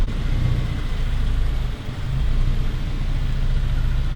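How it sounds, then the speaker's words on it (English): A Honda Integra Type R engine drones steadily while driving, a low mid-pitched hum with road rumble inside the car, dipping briefly and then resuming at an even pace, with no talking. "Driving the Type R, baby."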